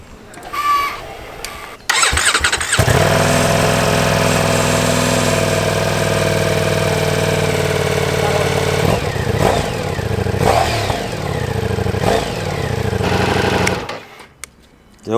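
A Ducati Diavel V4 motorcycle on its standard exhaust cranks and fires up, then settles into a loud, steady idle with a few revs before cutting off near the end.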